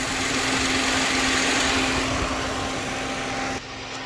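A Kia Sedona radiator fan spins with a steady, close mechanical hum and faint vibration, the sound shifting slightly near the end.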